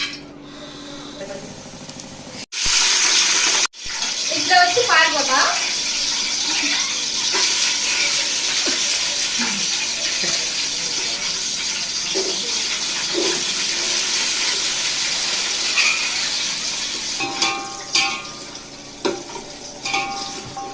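Whole biryani spices such as cinnamon, cloves, cardamom, mace, star anise and fennel seeds hit hot oil with a loud, steady sizzle that keeps crackling while they fry, with brief clatter and stirring noises at the start.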